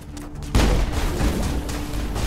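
Pistol fire in the sci-fi shooter game Mass Effect: a loud, sharp burst erupts and then rumbles on in a dense, noisy wash of gunfire for the rest of the moment, with no voices.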